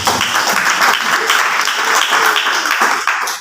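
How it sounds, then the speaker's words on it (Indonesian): Enthusiastic applause from a church congregation, steady and loud throughout before tapering off at the end. "Kita beri tepuk tangan buat Tuhan Yesus"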